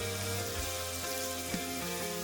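Chopped large onion fries in hot oil with a steady, close sizzle throughout, punctuated by a couple of faint stirring scrapes.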